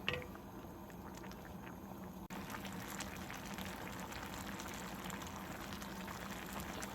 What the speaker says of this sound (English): I'm going to let this simmer for a while now